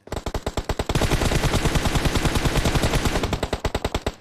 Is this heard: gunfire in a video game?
yes